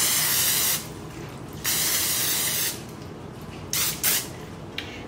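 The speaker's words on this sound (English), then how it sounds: "Lightly spray your pan." Cooking spray hissing onto a baking pan in three short bursts, the first two long and the last a pair of quick puffs, close and fairly loud.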